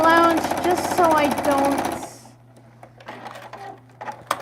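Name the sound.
sewing machine stitching, running a bit clunky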